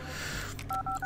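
A payphone in the Junkyard Simulator video game gives three short, even electronic dual-tone beeps in quick succession, clear and fairly loud over a steady low background hum.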